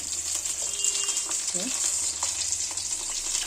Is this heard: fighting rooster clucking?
no